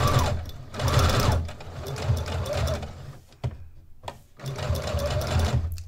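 A sewing machine stitching a fabric shark stocking fin runs in three rapid, close bursts of whirring clatter, separated by short pauses with faint clicks.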